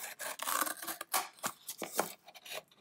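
Scissors cut shapes out of paper in several short snipping strokes with rustling between them, close and fairly quiet with no talking.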